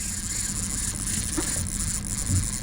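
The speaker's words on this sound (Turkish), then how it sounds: "Tekne yap gaz verip bizi güneşten şöyle döndürsene." Fishing boat engine idling steadily on open water during tuna fishing, a continuous low rumble with a constant broadband hiss that stays even throughout, without talk.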